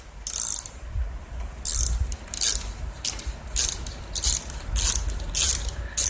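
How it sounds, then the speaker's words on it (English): A 5/16 socket ratchet loosening nuts on a plate of a Stihl BG handheld leaf blower; repeated loud, close bursts of ratcheting clicks come in quick strokes with short pauses between them, and no talk. "To remove this plate, there are some nuts here to take off. A 5/16 socket is what I'm using here"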